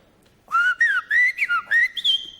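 A person whistles an imitation of a blackbird, a short run of fluting, warbling phrases that slide up and down in pitch, clear and close, alone after a brief quiet start.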